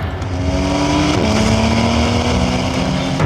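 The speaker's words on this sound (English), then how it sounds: "The combination of the powerful motor and the sports exhaust system gives the car its own characteristic sound" Loud 2017 Porsche 911 GTS sports exhaust burbles and rises in pitch as the engine revs, a deep continuous growl close by.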